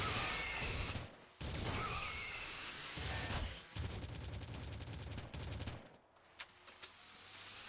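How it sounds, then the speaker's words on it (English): Assault rifle fire in the cave section of Red Faction, long dense bursts of rapid automatic shots, loud and close, broken by short gaps before the firing trails off. "you really want to have the assault rifle for this part, because it's the best gun for them"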